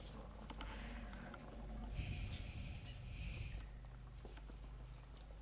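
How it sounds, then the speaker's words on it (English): Steady ticking of an in-game timer in the video game Goetia 2, a crisp even beat repeating throughout, quiet and mechanical, with a faint soft drone rising briefly in the middle. "I hear the ticking."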